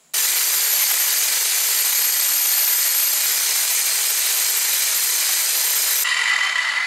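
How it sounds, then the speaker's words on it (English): A vise-mounted angle grinder grinds excess metal off a metal-handled cleaver. It makes a loud, continuous, harsh whine for about six seconds, close up, then stops abruptly, with no speech. "The quickest way for me to remove this excess metal here is with the angle grinder"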